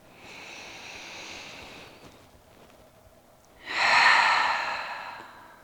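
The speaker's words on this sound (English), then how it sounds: "take a collective breath with me, starting by exhaling all of your air out" A long, steady exhale that empties the lungs during a trauma-informed yoga rest practice, a pause, then a fuller and louder inhale. Both breaths are close, soft and airy, with no talking.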